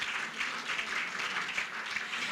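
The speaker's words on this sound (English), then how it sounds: "I think we deserve a round of applause as an audience." An audience at a launch event for the African Girls Can Code Initiative claps in a dense, even wash of applause that holds steady throughout.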